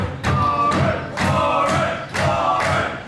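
A professional wrestling crowd cheers for Warren Banks during a match, roaring in three or four rhythmic, chant-like bursts with heavy thuds mixed in.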